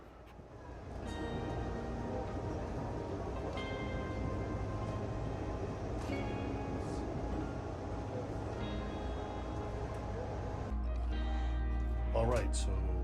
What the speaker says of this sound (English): the very late westbound Amtrak Southwest Chief passed us on the siding